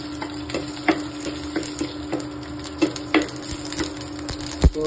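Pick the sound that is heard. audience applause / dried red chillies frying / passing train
dried red chillies frying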